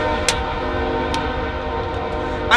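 A train passes close by a riverside spot with a steady horn tone and rolling rumble, broken by a few short clanks.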